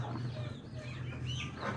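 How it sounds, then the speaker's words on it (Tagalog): Chickens cluck softly in a laying spot where hens nest under wooden boards, a low steady murmur of fowl sounds lasting under two seconds with no talking. "manok naman po yung nangingitlog dito"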